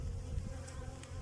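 Honey bees buzzing steadily in a large, busy hive, a close, dense drone with no other sound.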